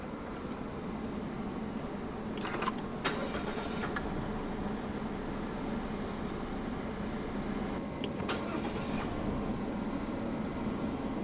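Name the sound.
car engine starting with push button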